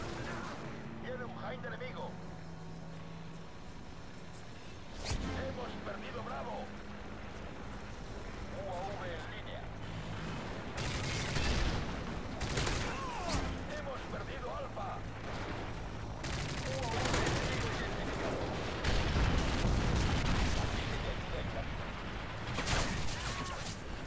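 Gunfire in Modern Warfare 3 multiplayer, with sharp shots and dense bursts rumbling through a noisy battle bed, while someone talks excitedly over much of it.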